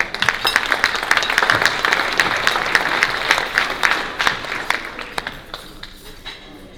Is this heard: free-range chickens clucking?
no